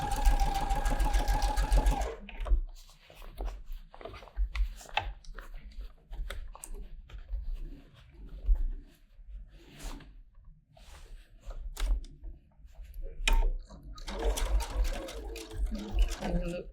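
A sewing machine stitches the back yoke of a pajama top, starting with a steady whirring run, then continuing as short intermittent bursts with clicks and handling noises in a quiet room.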